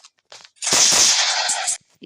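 A burst of rapid gunfire in Minecraft lasting about a second, loud and close, with a few faint clicks before and after.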